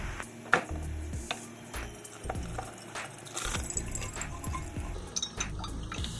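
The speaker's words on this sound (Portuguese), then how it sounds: "daí nós vamos escorrer o macarrão, mas só que não joga a água fora" Water from cooked instant ramen noodles pours through a strainer into a pan below, with continuous splashing and trickling plus occasional clinks of the cookware.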